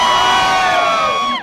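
A large crowd at an outdoor art festival in a city park roars with cheers and shouts, one loud sustained burst close by that fades at the end.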